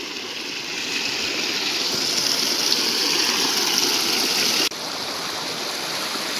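Steady, loud rush of a waterfall swollen by heavy rain fills the whole clip, a continuous broadband roar with no voices, briefly dipping near the end.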